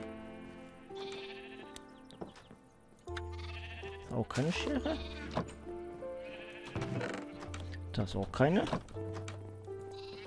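A sheep in the video game Minecraft gives several wavering bleats, some close and loud and others repeated, over a low game background while people talk.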